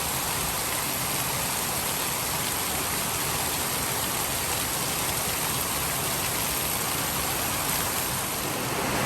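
Heavy tropical rain pours down steadily during a flooding downpour, a dense unbroken roar of hiss that fills the whole span without pause.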